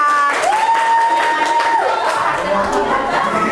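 A class of students applauds group 4 after their presentation, clapping in a busy room while a whistle-like tone sounds briefly and voices chatter over the hands.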